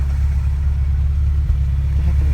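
A Porsche 944 engine idling rough and rich, a steady loud low rumble with a brief stumble from a misfire partway through, no talking.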